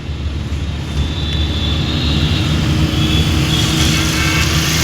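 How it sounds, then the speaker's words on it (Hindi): A car passes on the road during a beginner's on-road driving lesson, a loud, steady roar of engine and tyre noise heard from inside the moving car. "देखिए गाड़ी आ रहा है"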